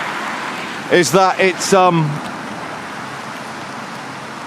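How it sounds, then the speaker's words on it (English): Heavy rain falls as a steady broadband hiss throughout, with a brief spoken phrase near the start. "it's raining heavily now"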